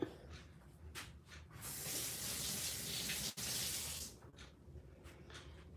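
Frozen shrimp rinsed under a running kitchen tap, a steady hiss of water splashing for a couple of seconds between quieter handling sounds, close and without talk.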